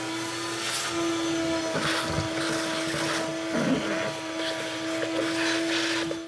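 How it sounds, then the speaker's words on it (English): A vacuum cleaner runs steadily throughout while cleaning out a long-abandoned concept car, a continuous whining drone with a strong constant hum and small shifts in pitch and load as the nozzle moves. "Let's get the vacuum out."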